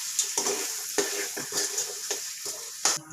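Chicken gravy with tomato and pepper being stirred in a pan, a spoon scraping in repeated strokes roughly every half second over a steady close sizzle of frying.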